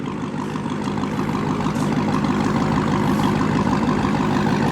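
A Dodge Charger Hellcat sits idling, its engine giving a steady, deep rumble close by with no voices over it.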